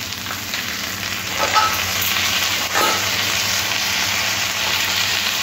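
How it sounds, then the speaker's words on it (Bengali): Chopped vegetables fry in hot oil in a pan, giving a steady, dense sizzle with a couple of brief scraping stirs partway through, close and continuous without any talking. "সমস্ত কিছু সবজি আরও একবার ভালো করে ভেজে নিতে হবে।"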